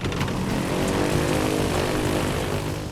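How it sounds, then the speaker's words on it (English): A Terrafugia Transition flying car runs as an airplane, its propeller engine giving a loud, steady, droning buzz for a few seconds. "the Terrafugia transition turns from car into airplane"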